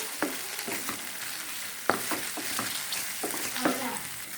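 Marinated squid pieces sizzle in a hot pan while being stir-fried, a steady fry hiss broken by irregular scraping and clacking of the spatula stirs, close and moderately loud.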